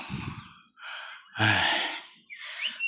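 Heavy, labored panting after a climb into a cave at a Thai temple, several loud ragged breaths with brief pauses between them, close to the microphone and with no speech.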